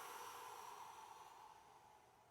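A person exhaling during a fingertip massage routine for headache and back pain, one long soft breath out, very faint and close, fading gradually over about two seconds.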